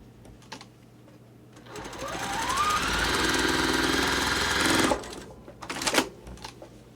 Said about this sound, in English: Now I've got those rows sewed together.